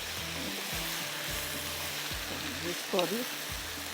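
Qeema mince frying with tomatoes in a pan, a constant loud sizzle with periodic scraping stirs of a spoon, while someone talks briefly over it.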